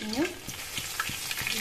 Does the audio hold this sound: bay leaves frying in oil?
yes